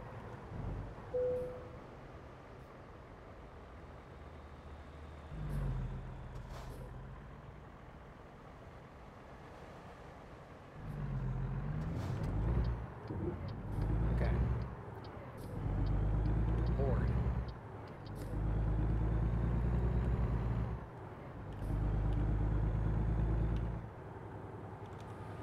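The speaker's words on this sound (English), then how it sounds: "every truck in the world is coming down this road right now" Trucks in American Truck Simulator pass by on a night road, several low rumbling engine swells rising and fading one after another in repeated waves, with occasional speech.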